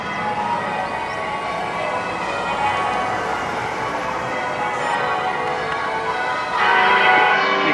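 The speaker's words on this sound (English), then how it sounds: "This is the bell tower. You can hear belling, ringing, whatever they call it." Church bell tower ringing outdoors, a steady dense wash of bell tones sustained throughout and swelling slightly louder near the end, with no talking.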